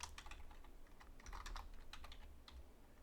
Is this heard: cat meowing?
no